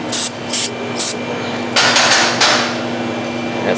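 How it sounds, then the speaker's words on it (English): Short, loud hissing bursts of penetrating lubricant spray onto the exhaust bolts of a 2004 Dodge Ram 5.9 Cummins on a lift, first three quick spritzes and then longer sprays, over a steady shop hum. "Just going through, spritzing off all these bolts here."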